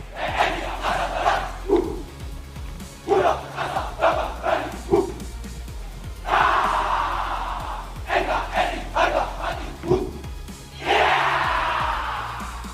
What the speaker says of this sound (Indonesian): Langit langsung dipenuhi topi para perwira baru diiringi sorak-sorai kemenangan